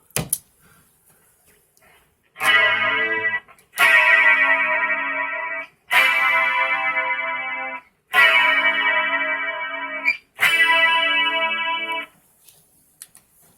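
Electric guitar through an 80's Rockman combined with pedalboard effects plays five sustained, chorus-laden distorted chords, each ringing for about one to two seconds and separated by short near-silent gaps.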